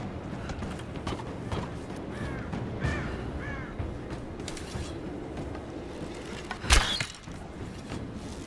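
Crow-like cawing from a bird in the Rise of the Tomb Raider video game, several harsh calls around the middle over a steady game ambience with creaks and footsteps, then a loud sharp impact near the end.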